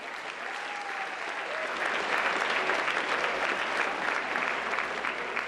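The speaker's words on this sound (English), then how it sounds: "Give her a round of applause, everybody." A live studio audience at a local TV morning show applauds steadily as a volunteer is invited on stage, the clapping building and swelling into loud, sustained applause with no talk over it.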